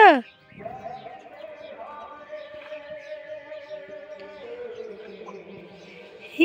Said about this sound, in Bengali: তোমরা কেউ দেখেছো কথা বলা শালিক?